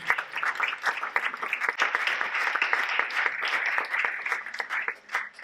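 An audience at an Ignite Talks event applauds and cheers for a speaker named Danny: steady, dense clapping, moderately distant, with scattered whoops, holding for several seconds.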